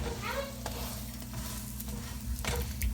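Steady, close sizzling of a Mughlai paratha frying in hot ghee, with a few light scraping and stirring sounds on the pan.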